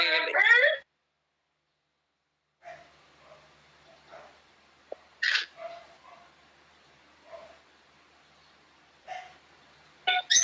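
A dog whimpers and yips in short, faint bursts at irregular intervals in the background of a quiet indoor room, with long near-silent gaps between the calls.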